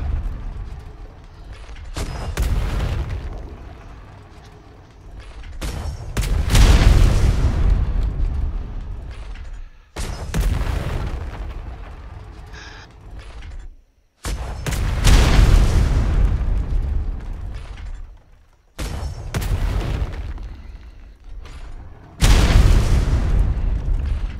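Mortar shells explode in a military video game, a series of deep booming impacts with rumbling tails recurring every few seconds, loud and close, with no talk.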